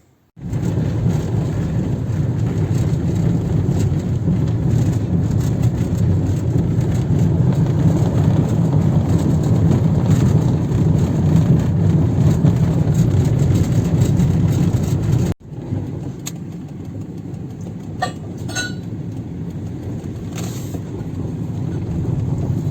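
A car drives on the road toward a scrapyard, with a steady low engine and road rumble heard from inside for about fifteen seconds, then a quieter cabin hum with a few small knocks.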